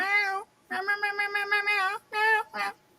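A female cat gives a string of clear, close meows: one long call, then a rapid run of short pulsing mews, then two more calls, with brief silent gaps between them.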